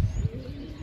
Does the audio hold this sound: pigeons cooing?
yes